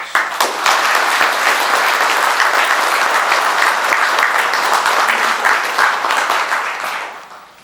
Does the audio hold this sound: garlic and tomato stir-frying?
no